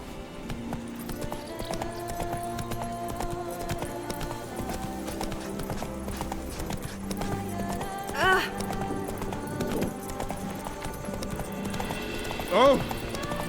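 Roach the horse trots in The Witcher 3 video game, a steady clip-clop of hooves at an even pace, close and moderately loud, with someone briefly speaking over it and a couple of short louder bumps.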